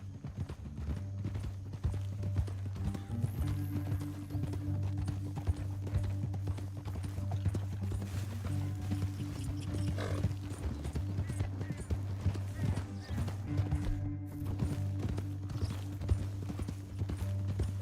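Hoofbeats of horses galloping across a canyon in Red Dead Redemption 2, a steady clip-clop under a low musical drone, with brief bits of distant voices.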